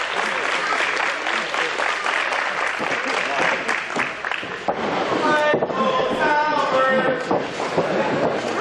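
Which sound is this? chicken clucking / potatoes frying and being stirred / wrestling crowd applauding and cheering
wrestling crowd applauding and cheering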